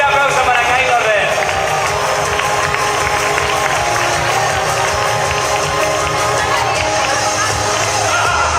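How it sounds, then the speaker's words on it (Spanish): An audience at a manga convention cosplay runway claps and cheers for a Kylo Ren cosplayer, a loud, continuous wash of applause and crowd noise lasting several seconds with voices mixed in. "Fuerte aplauso para Kylo Ren."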